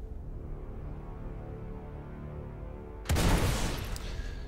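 A size 3 missile strikes a Reclaimer ship in Star Citizen, a sudden loud blast that breaks a steady low engine drone, then rumbles and slowly fades.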